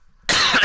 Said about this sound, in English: Apologies for the cough,